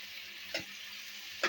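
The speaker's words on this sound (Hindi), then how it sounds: "टमाटर हमने शामिल कर दिए है, इनको भी अच्छे तरीके से हम पकाएंगे।" Tomatoes fry in a pan for mutton karahi, giving a faint, steady hiss broken by two soft stirring scrapes.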